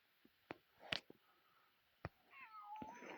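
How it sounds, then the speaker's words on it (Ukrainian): A cartoon cat meows in the Toca Boca mobile game, with a few short mew-like calls among light game clicks and effects, fairly close and clear, with no talking. "Мяу-мяу."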